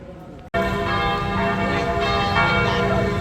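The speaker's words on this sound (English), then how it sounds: "that is actually the 6 o'clock bell" The six o'clock bell of a Gothic church in Hanoi built around 1886 strikes loudly after a brief quiet moment, then its rich, sustained ringing hums on without fading.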